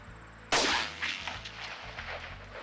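A single loud long-range rifle shot fired at a groundhog in Virginia, a sharp crack followed by a rolling echo that decays over a couple of seconds in open country.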